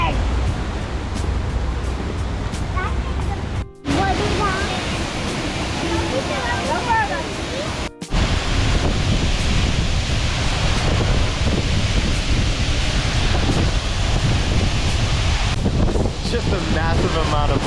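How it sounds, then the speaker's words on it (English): Loud wind roaring and buffeting the microphone at a Blue Ridge Parkway observation deck beside a rushing waterfall, a constant heavy rumble with a couple of brief dropouts and faint voices underneath. "Just a massive amount of wind that's going through here"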